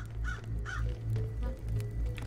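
A crow caws twice in quick succession inside the video game Secret Neighbor, the harsh calls fairly close over a steady low background hum, followed by quieter game ambience.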